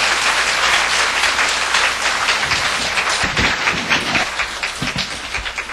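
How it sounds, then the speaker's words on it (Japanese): Lecture audience at a Seicho-no-Ie talk breaks into sustained applause, many hands clapping densely and steadily for several seconds, with no voices over it. "どうぞ感謝の拍手をお送りください。"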